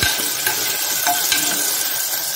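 Pumpkin and eggplant sauté in a pan for a tamarind kuzhambu, a loud, continuous sizzle with light stirring scrapes throughout and nobody speaking.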